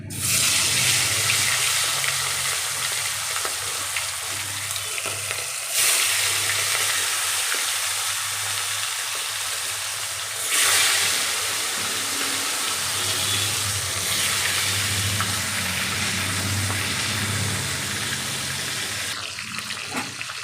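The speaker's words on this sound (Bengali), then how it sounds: "মাছটা আমার এক পিঠ ভাজা হয়ে গেছে, এবার উল্টে নেব" Boal fish fries in hot oil seasoned with turmeric and salt, giving a steady, close, loud sizzle with crackling spatter that runs continuously, with no voices.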